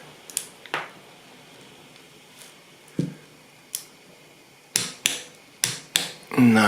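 A torque wrench tightens gearbox bolts during a repair of a faulty AL4/DP0 automatic gearbox, giving sharp, close metallic clicks, scattered singly at first and then coming in a quick cluster near the end, with quiet pauses between.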